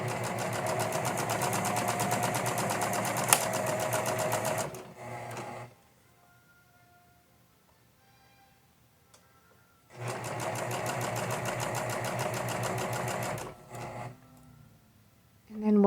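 A sewing machine stitching a dart in a 1950s-style dress runs in two steady, rapid bursts of about five and three and a half seconds, separated by a quiet pause.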